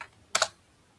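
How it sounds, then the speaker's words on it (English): A short burst of a few quick computer keyboard keystrokes, typing a search term, close and clear against a quiet background with no talking. "If I type any word here,"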